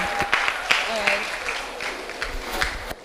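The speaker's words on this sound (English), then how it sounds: "hand of applause for her" An audience at the Powered Girl Summit 2024 gives a speaker a short round of scattered clapping, fairly near and moderate in volume, with a voice talking over it.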